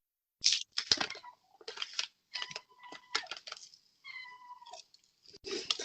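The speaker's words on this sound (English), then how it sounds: "There's a cat behind me. Sorry for the meows." A cat meows several times close behind a quiet indoor setting, with short bursts and one longer, drawn-out tonal meow, along with a few clicks and rustles between the calls.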